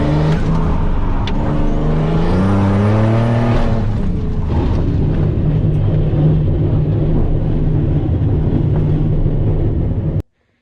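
A turbocharged 4.3 drift truck engine revs hard through second and third gear while its wheels spin, a loud close roar rising in pitch and then holding steady until it cuts off.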